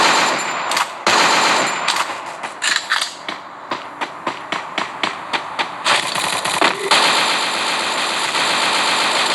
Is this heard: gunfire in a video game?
yes